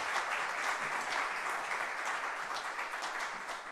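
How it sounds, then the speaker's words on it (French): A municipal council audience applauds a newly installed first deputy mayor, sustained mid-level clapping from a roomful of people that tapers slightly at the end. "On peut l'applaudir."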